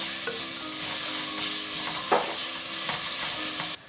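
Onions sautéing in a pan with salt for veg salna, a steady close sizzle with occasional scraping stirs.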